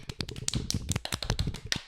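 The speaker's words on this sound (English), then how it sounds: "round of applause right there" A few people give a small, brief round of applause at a book club gathering, close-up and uneven, with quick irregular claps and taps.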